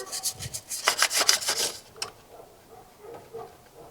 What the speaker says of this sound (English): You just rough up the surface so it can get a better grip onto the hose.